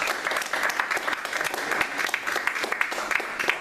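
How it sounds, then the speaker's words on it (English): Dense, steady audience applause fills a community political meeting in Brooklyn as a Republican party official is welcomed, many hands clapping together at close range with no break for the full few seconds. "Ladies and gentlemen, please give him a round of applause."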